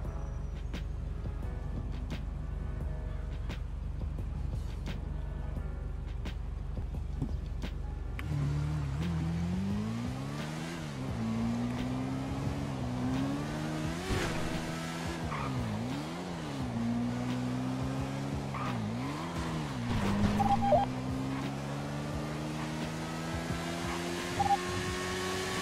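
In GTA V, a Kawasaki Ninja H2R motorcycle idles with a low steady hum, then its engine pitch climbs and falls repeatedly as the rider revs and shifts through gears, loud and close with no speech.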